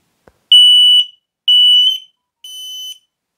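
An X-Sense connected smoke detector sounds its test alarm: three loud, piercing electronic beeps of about half a second each, evenly spaced and close by, after a small click, with silence between.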